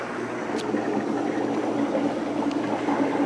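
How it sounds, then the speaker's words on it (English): An air pump drives air bubbles through hydroponic water culture grow tubes, producing a steady, moderately loud bubbling hiss that runs continuously with no pauses. "You can hear the bubbles going."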